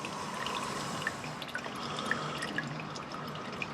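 Engine oil drains from the oil pan and filter housing of a 2014 Toyota Corolla S, a soft steady trickle with scattered light drips falling into a catch pan.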